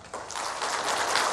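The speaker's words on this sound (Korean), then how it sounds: "나오실 때 우리 큰 박수로 환영해 주시기 바랍니다." A church congregation claps during a Sunday morning worship service to welcome the preacher, producing a brief, even wash of many hands that builds slightly and stays dense and steady throughout.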